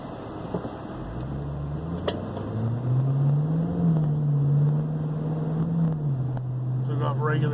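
A car on BFG g-Force Sport Comp 2 tires pulls away on light snow, its engine rising into a steady close hum that holds and then eases off, with a voice talking over it.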